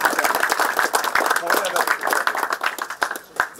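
A crowd at a meeting with residents of the Karpoš neighbourhood in Kumanovo applauds Vlado Misajlovski, giving dense, steady clapping throughout with voices mixed into the noise.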